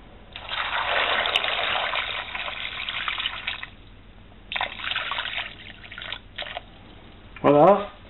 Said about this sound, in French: on rajoute de l'eau juste à temps qu'on arrive à une hauteur